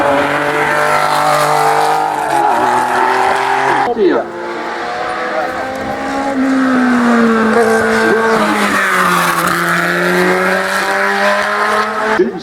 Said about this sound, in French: Allez, une autre Porsche.